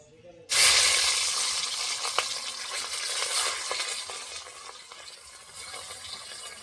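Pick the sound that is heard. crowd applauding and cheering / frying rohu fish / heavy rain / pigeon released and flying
frying rohu fish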